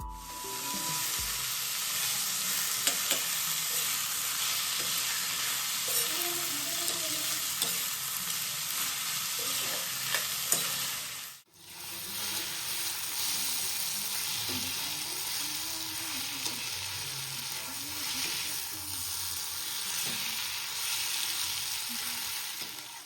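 A green onion vegetable dish with stone-ground spices fries in a pan, a fairly quiet, steady sizzle with intermittent stirring scrapes, briefly cut off midway and then resuming, no speech.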